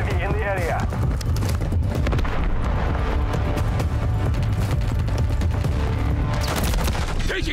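Dense gunfire in Call of Duty: Modern Warfare 3 (2023), with sustained automatic bursts and heavy booms filling the whole stretch, loud and continuous, and radio-style voices now and then.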